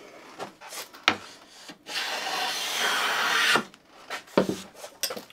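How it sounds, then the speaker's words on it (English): A hand plane pushed along a wooden board edge takes a shaving: a sustained rasping, hissing stroke lasting about two seconds, framed by short knocks and scrapes of the plane being set down and repositioned, close up. "where we're taking our shaving in the middle of the blade"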